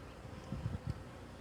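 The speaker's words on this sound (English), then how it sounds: "But there is bees going in that as well" Bees buzz around a hive box on a rooftop, a soft close droning hum with a few brief louder passes over faint wind.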